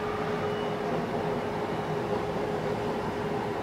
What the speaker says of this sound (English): A train is passing.